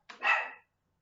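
A single dog bark, short and fairly close, sounding alone in an otherwise quiet room.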